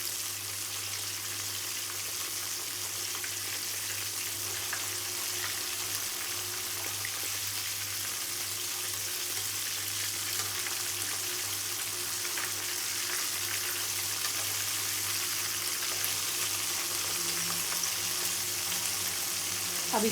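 Spicy chicken drumsticks fry in a pan with a steady, close sizzle and crackle, constant and even throughout with no voices.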